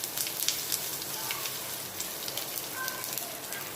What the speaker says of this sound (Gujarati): અને આપણે સાતરી લઈશું।